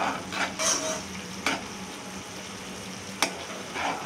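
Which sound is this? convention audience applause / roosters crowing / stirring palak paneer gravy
stirring palak paneer gravy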